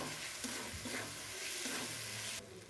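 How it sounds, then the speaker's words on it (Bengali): Chicken spices sauté with cumin powder in a pan, a fairly quiet but continuous hissing sizzle with soft stirring scrapes, cutting off abruptly just before the end. "তো জিরে গুঁড়োটাকেও অ্যাড করে ভালো করে মশলার সঙ্গে কষিয়ে নেব"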